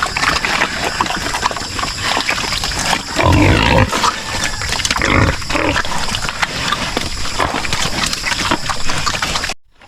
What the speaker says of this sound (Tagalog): nakatali natin yung isang inahing baboy natin buntis